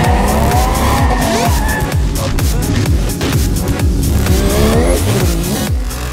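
A drift car on a practice run at a drift show in Malta, engine roaring with rapid gear-rev cycles while tyres screech continuously, loud and close throughout.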